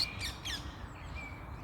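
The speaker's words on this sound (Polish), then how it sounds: "I tu są papugi zielone." Green Alexandrine parakeets chirp and squawk in short, shrill bursts against a quiet outdoor background in Germany, a few calls close together then fading.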